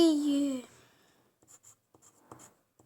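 Pen writing on a valentine card, soft scratchy strokes in short bursts after a voice speaks briefly, close and quiet.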